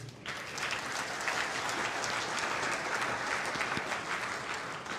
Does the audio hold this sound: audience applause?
yes